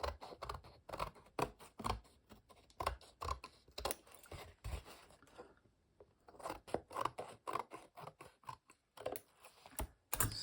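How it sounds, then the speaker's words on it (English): Scissors snip along the edges of printed paper decorated with gold leaf and metallic pigments, a close, steady run of crisp cuts with a short pause midway. "I will cut these edges clean here."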